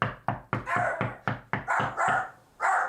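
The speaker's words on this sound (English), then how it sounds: "My dogs were barking just like that." Dogs bark repeatedly in a fast run of sharp, loud, close barks, some overlapping and stretched into yelps, with no talking over them.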